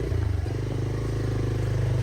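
A motorcycle ridden on a slippery, rain-soaked off-road trail gives a steady, close engine drone that holds throughout with slight roughness.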